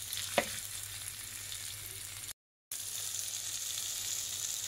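Holy basil stir-frying in a hot pan for a squid dish, a steady close sizzle with a brief sharp crackle near the start and a short gap of silence midway.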